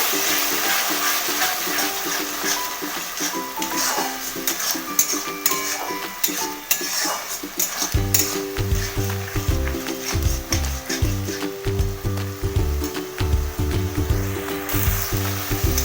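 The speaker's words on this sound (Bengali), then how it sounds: "আবারও খুব ভালো করে নাড়াচাড়া করে কষিয়ে নেব" Tomato paste masala for chicken masala fries and is stirred in a pan, giving a continuous close sizzle with occasional scrapes; halfway through, background music comes in over the frying.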